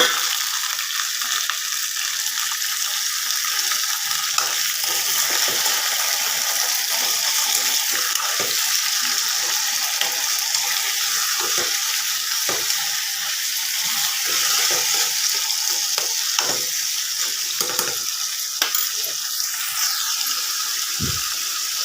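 Tomatoes and garlic, with cumin seeds, frying in a pan: a long, even sizzling hiss with scattered soft pops and occasional stirring clicks, with no talking.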